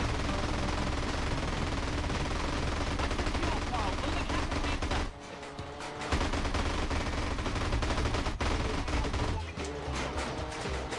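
Machine guns firing in GTA San Andreas during the Supply Lines mission, a loud, continuous rattling barrage that runs almost unbroken, pausing briefly midway before resuming.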